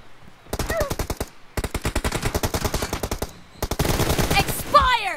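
Rapid automatic gunfire from a competitive battle royale game during a scrim, fired in three sustained bursts with short gaps between them, loud and close. A brief chirpy sound effect closes the sequence.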